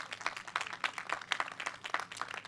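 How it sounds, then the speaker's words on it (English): An audience at the Hingham annual town meeting claps together in a steady patter of many hands. The applause is fairly faint, as though heard from a distance. "I assume you're applauding for the work that they do now"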